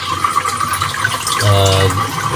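Water pouring into a filter tank through a float valve, a steady gushing fill heard close under someone talking, with a brief louder surge midway.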